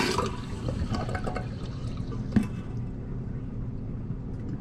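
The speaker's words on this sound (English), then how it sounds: "Now first thing I'm going to do is flush my toilet and drain my tank." A household toilet being flushed and its tank drained, water rushing and gurgling steadily throughout at close range, with a brief clunk midway and no talking.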